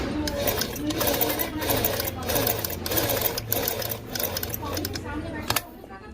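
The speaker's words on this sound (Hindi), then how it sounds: "तो फ्रेंड चलिए देखें ध्यान से, हमारी मशीन नीचे का धागा एक ही बार में ऊपर ले आए।" A domestic sewing machine runs in fast rhythmic bursts while someone talks over it, the stitching chatter close and steady with brief pauses between runs.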